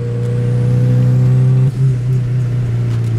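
A Volkswagen Gol turbo engine with a straight-through exhaust makes a close, steady droning rev that dips briefly and then holds again, with no talk over it.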